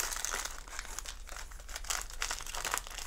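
Crinkly packaging in a surprise parcel of books and goodies rustles and crackles continuously and fairly loud up close, with no talking.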